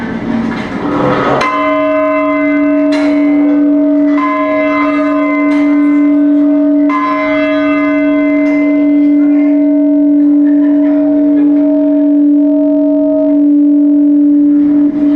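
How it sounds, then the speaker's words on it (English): A big bell is struck several times, loud and close, with strong sustained ringing that hums on and slowly fades between strikes. "I always wanted to ring the bell. A big bell."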